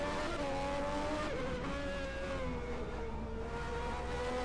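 A Ferrari V12 Formula 1 car screams through the Monaco streets at the 1991 Grand Prix, heard from onboard as a loud, high-revving engine that holds a steady whine and shifts pitch through gear changes.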